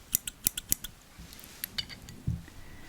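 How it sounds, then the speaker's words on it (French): Metal scissors handled at close range during a whispered makeup roleplay, giving several sharp snipping clicks in a quick cluster followed by a few softer, scattered taps and a low thud. "Je vais prendre des ciseaux."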